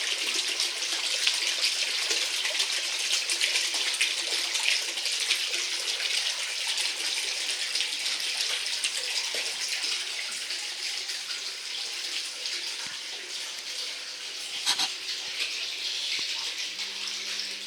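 Water gushing steadily from a pump and hose into a holding tank, a constant bright hissing rush that stays even throughout with a brief splashy burst near the end.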